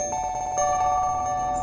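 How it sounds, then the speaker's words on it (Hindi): A phone ringtone sounds loud and close, a bright electronic melody of repeating tones that carries on alone for under two seconds. "फोन आ गया यार।"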